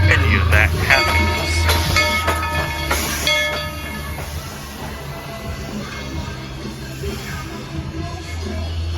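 A Tweetsie Railroad Ghost Train runs on its rails with a steady low rumble and clatter, while sustained tonal notes ring out over it, loudest early and then easing off.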